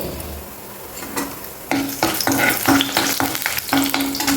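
Chana dal, urad dal, mustard seeds and dried chillies fry in hot oil, starting as a soft sizzle and then breaking into loud, close crackles and sharp pops as the ingredients hit the pan, with repeated spatula knocks.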